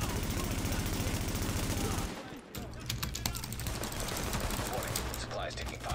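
Rapid automatic gunfire in the shooter game The Division rattles loudly for about two seconds, breaks off, then returns as sparser scattered shots under ongoing combat noise.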